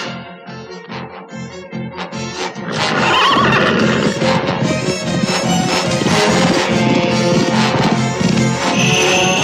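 A horse whinnies loudly and long over a rhythmic clip-clop of hooves, with the sound swelling and staying full and close after the first few seconds, no talking.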